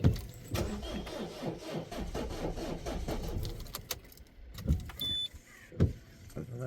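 A Peugeot 1.6 HDi diesel cranks without starting, its starter motor churning in a rapid rhythmic whir for several seconds, then stopping, followed by a few clicks and knocks nearby.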